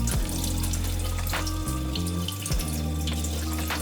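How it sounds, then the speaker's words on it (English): Tap water runs steadily over halved leeks being rinsed in a sink, a continuous hiss and splash with a few shifts as the flow hits the vegetable, no talking. "After cutting in half lengthwise, hold under running water while folding the layers back to get at all the dirt."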